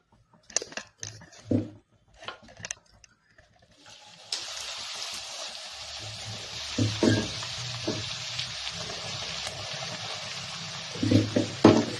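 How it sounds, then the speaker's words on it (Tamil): Food frying in a pan over a low flame: a steady gentle sizzle sets in after a few seconds of scattered clinks and handling noises, with occasional stirring knocks throughout. "சிம்மிலேயே நல்லா இது பொரியணும்"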